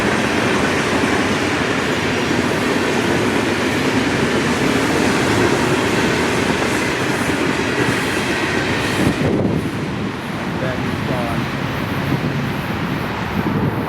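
Freight train of yellow U.S. Sugar ballast hoppers rolling past close by near Fort Lauderdale, Florida, a loud continuous rumble with rhythmic wheel clatter and faint squeal before it eases slightly near the end.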